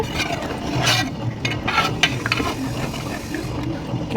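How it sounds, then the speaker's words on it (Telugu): A spoon stirs fish curry (chepala pulusu) in a pan, making a bubbling simmer with scraping and clinks of the utensil against the pot, at close range and without speech. "ఇలా వేసుకుని ఒక్కసారి కలుపుకోండి కూర"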